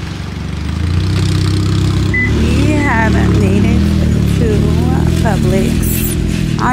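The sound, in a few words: loud car engine next to speaker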